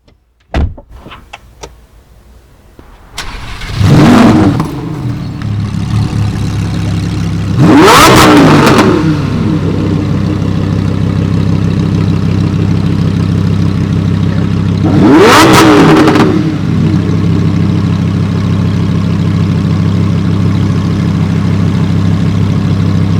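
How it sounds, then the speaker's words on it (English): A stock-exhaust 2018 Lamborghini Huracán Performante V10 fires up with a loud start, then settles into a throaty idle punctuated by three sharp, roaring revs spaced several seconds apart. "One of the best sounding V10s ever."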